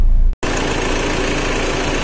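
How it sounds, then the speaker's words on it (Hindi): A Renault Duster engine idles steadily after a brief cut, a close, continuous even hum with no misfire, running alone without talk. "एकदम खड़ा हुआ इंजन, गाड़ी स्टार्ट है और गाड़ी के अंदर मिसिंग नहीं है"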